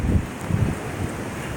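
Strong gusting wind from a passing thunderstorm after a tornado warning in Florence, Kentucky, buffeting the microphone in a low, rumbling rush that swells and fades over a brief moment.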